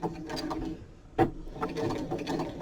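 A sewing machine runs a straight stitch on a fabric pen case, a close, moderately quiet rapid mechanical clatter with a brief pause and a sharper knock midway.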